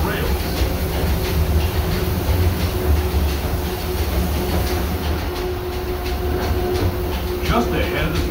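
Riding aboard the Disneyland Railroad excursion train through a theme park, a steady loud rumble of wheels on rails with faint rhythmic clatter, while a voice talks over it.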